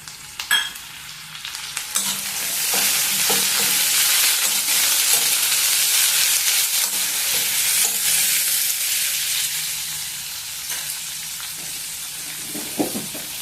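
Tomato and onions for sambar sizzle in a pan while being stirred, a continuous close frying hiss with repeated scraping strokes of a spoon, louder in the middle and easing toward the end, with no talk.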